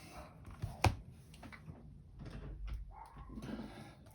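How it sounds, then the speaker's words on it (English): Indoors, a window is pulled shut with a sharp knock and sliding scrapes, followed by soft rustling and faint background noise. "Just close the window a bit."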